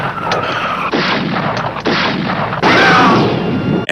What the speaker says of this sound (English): Bobby continues his shooting spree